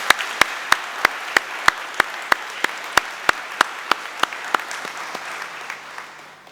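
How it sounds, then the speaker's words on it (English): Steady, evenly spaced claps, about three per second, ring out in a quiet hall at a judge's felicitation ceremony and fade slightly toward the end, with no voices. "Can I request for a round of applause?"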